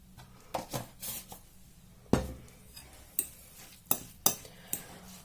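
Cottage cheese pancake batter for syrniki being stirred and mashed in a bowl, with a string of sharp spoon knocks and scrapes against the dish and quiet gaps between them, close and without talk.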